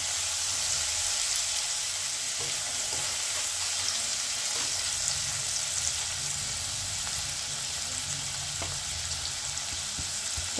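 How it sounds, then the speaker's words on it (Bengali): Paneer frying in hot oil in a kadhai gives a continuous, dense sizzle that holds steady throughout, with faint occasional ticks of spattering oil. "আর কিছুটা আমি তেলের মধ্যে ফ্রাই করে নেব"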